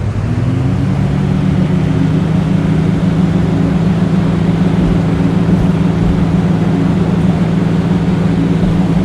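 Aircraft engines held at full takeoff throttle in a flight simulator game, a loud, steady drone and hum lasting throughout without pauses or talk.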